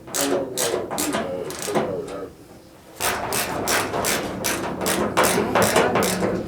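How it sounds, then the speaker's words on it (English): Self-tapping screws being driven into the frame of a 1969 Volkswagen Beetle fitted with a ragtop conversion, heard as a run of close, loud, rapid mechanical bursts with a brief pause partway through. "So I just got done putting 2 self-tapping screws in the front."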